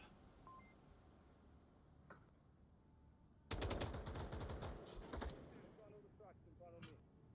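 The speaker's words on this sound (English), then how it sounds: "First bullets are fired." Gunfire in the VR shooter Onward during a tournament match begins after a quiet stretch with a loud burst of rapid automatic shots, then scattered single shots and faint game beeps.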